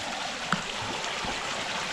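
Water rushes steadily through a canal after the first rain in five weeks, a dense, even wash of flowing sound with one small splash early on and no talk.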